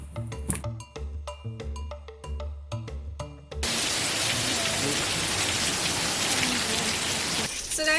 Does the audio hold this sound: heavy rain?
yes